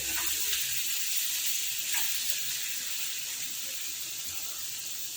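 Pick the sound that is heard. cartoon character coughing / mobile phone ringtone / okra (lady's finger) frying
okra (lady's finger) frying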